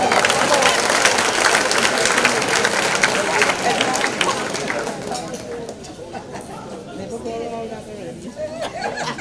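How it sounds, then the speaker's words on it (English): Gala audience at a university alumni association chapter launch applauds in a big room, loud clapping mixed with chatter and laughter that eases toward the end. "Give your neighbor a round of applause."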